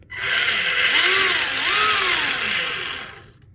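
Electric motor of a Tamiya Blackfoot RC truck on a throttle pull forward, a steady whine that rises and falls in pitch with two swells, loud and close with no talk.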